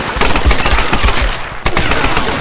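Rapid automatic gunfire from a firefight in the video game Tomb Raider (2013): loud, dense bursts crackle almost without pause, with a brief lull before the shooting resumes. No one speaks.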